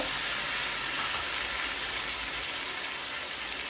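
Browned onions fry in a pan with ginger-garlic paste, making a soft, even, continuous sizzle heard close but faint, with no speech.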